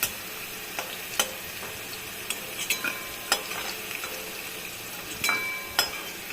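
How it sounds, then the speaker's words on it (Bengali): Fried potato pieces for goat liver stir-fry are lifted from a pan with soft scrapes and light utensil clicks over a faint steady sizzle of hot oil, close and quiet. "আলুটা আমার ভাজা হয়ে গেছে, এখন আমি আলুটাকে তুলে নেব"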